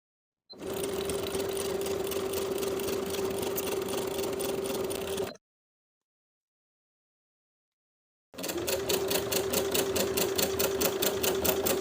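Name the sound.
sewing machine topstitching denim jeans fly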